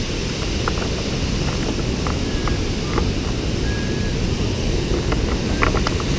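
Yosondua waterfall in Tlaxiaco, Oaxaca, water rushing down in a dense, steady roar that fills the whole scene, with faint scattered voices and chirps beneath it.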